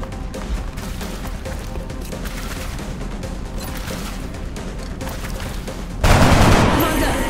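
Bursts of gunfire ring out during a turn-based alien combat game, XCOM: Enemy Unknown, the rattle continuing steadily before a louder, heavier blast at the end.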